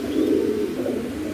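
Pigeons at a sale coo close by, a soft low throaty burble that rolls on steadily through the short moment without any talking.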